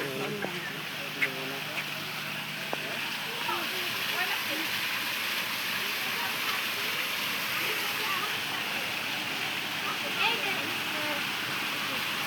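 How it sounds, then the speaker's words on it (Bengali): Steady rushing roar of a forest waterfall, a broad continuous wash of falling water heard from nearby, with faint voices and occasional bird-like calls mixed in. "এই যে ঝর্ণা, ওয়াটারফল।"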